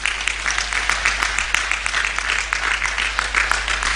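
A church congregation at a jubilee celebration applauds loudly and steadily, a dense wash of clapping from many hands that stays even for several seconds with no voices standing out.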